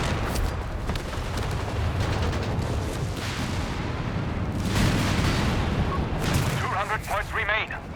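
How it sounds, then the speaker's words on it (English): An artillery barrage from a coastal officer in Company of Heroes 3 during a 3v3 battle on the Summit, with dense rumbling blasts and gunfire throughout, under constant commentary. "Oh, that coastal officer artillery!"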